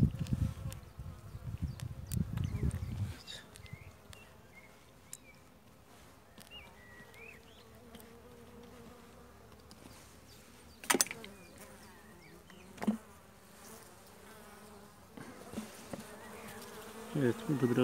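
Steady insect buzzing from many honeybees in a weak colony's hive fills the clip, with a dense low hum at the start easing into a quieter drone and a few sharp knocks.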